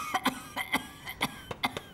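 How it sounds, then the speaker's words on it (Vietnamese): A woman coughs in a rapid series of about nine harsh, close bursts, grouped in pairs and threes with brief gaps between them. "sao mẹ ho dữ vậy?"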